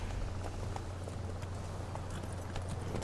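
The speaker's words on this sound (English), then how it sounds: "Luckily, Geralt can always count on his horse, Roach, to help him in travel." Horse hooves clip-clop at a steady walking pace in The Witcher 3 game, rhythmic and moderately close over a constant low rumbling background.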